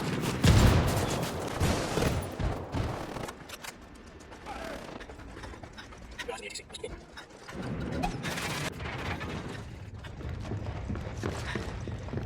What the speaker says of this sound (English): Rebel mortars are incoming.